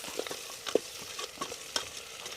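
Finely chopped capsicum and chili sautéing in a pan for Arabian chicken madhooth, with soft frying hiss and a few light, quiet stirring scrapes close by.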